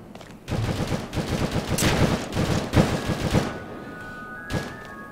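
Gunfire in the survival game Rust, a dense run of rapid automatic shots thumping close and loud, then thinning to a few scattered reports before one last isolated shot.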